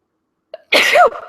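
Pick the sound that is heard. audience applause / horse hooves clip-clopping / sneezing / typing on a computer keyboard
sneezing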